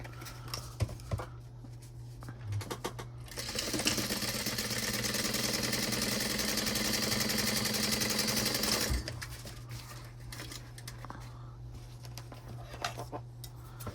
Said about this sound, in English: And then I'm going to sew it together at 1/4 inch.